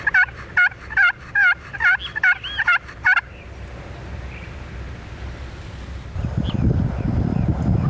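A wild turkey tom in full strut gobbles in a rapid run of about eight rattling calls, fairly close, then goes quiet as gusty extreme wind rumbles into the microphone and grows louder near the end.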